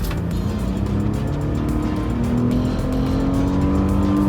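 A 2020 INFINITI QX60 SUV with a CVT transmission accelerates, its engine revving steadily under load with a smooth rising drone and no distinct gear shifts, close and continuous.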